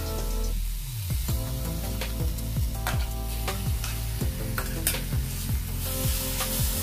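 Ground masala being stirred into a frying pan for samosa filling, a spoon scraping in steady repeated strokes over a constant close sizzle, with no voices.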